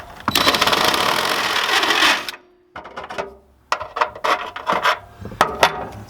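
A hole in the rear body of a 2016 Subaru XV Crosstrek is enlarged for a trailer hitch: a loud, continuous metallic grinding whir for about two seconds, then short intermittent bursts of cutting and rasping after a pause.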